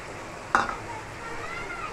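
Spices frying in oil as sour yogurt goes in, with a sudden splashy hiss and a clink, then a softer sizzle that keeps going.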